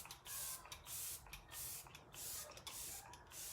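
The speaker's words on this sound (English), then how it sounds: "now let's set it with our refreshing spray, completely non-toxic setting spray" A non-toxic setting spray is misted onto the face in four quick, soft hissing bursts close by, with short quiet gaps between pumps.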